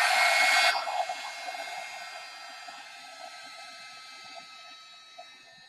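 A hair dryer blows loudly on wet paint on an art journal page, then cuts off after under a second and leaves a low fading hum with faint rustling.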